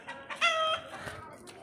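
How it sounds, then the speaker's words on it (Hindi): A hen clucks close by outdoors, with a short strained squawk standing out in the middle of the moment and a few quieter clucks around it. "मुर्गी तेरी दोस्त आ गई।"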